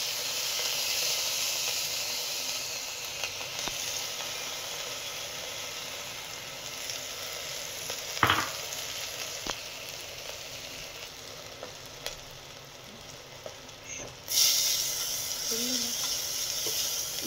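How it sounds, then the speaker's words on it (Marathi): Washed moong dal fried in ghee inside a pressure cooker gives a steady soft sizzle and hiss, with an occasional clink of a stirring spoon, close and without talk. "डाळ धुवून घेतली आहे स्वच्छ, ती आपल्याला चांगली तुपामध्ये फ्राय करून घ्यायची आहे।"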